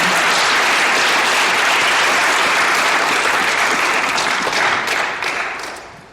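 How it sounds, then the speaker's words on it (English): Loud, full audience applause for storytellers at a panel event on USAID's termination and support for immigrants and refugees, a thick roar of clapping that holds steady and then fades out toward the end. "Can we give them another round of applause?"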